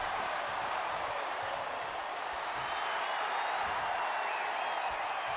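A dense, steady arena crowd roar from the WWE 2K25 wrestling video game during a Randy Orton match, a constant wash of cheering and applause with no breaks, moderately loud and even throughout.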